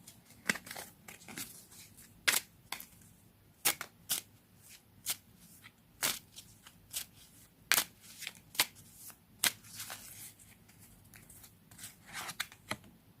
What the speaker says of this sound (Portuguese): Vou tirar mais cartas para outra.